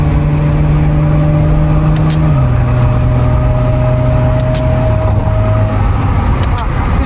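Car with a freshly rebuilt engine and 8HP75 automatic transmission cruising, the engine note dropping in steps as gears shift up smoothly, a loud steady drone inside the cabin with brief clicks.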